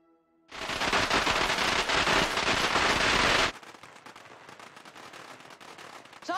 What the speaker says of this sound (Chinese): 你没听到放炮吗？